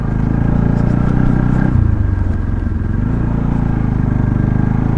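A motorcycle ridden in second gear on a short trip out of Kathmandu, its engine a loud, steady close drone that dips and then recovers halfway through, with a faint rattle and no voices.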